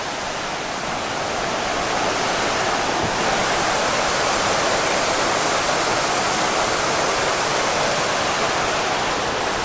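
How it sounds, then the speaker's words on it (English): Steady rushing of river water flowing beside a stretch of the Appalachian Trail in Connecticut, a dense continuous wash filling the whole clip with no voices. "I'm walking next to the 10-mile river"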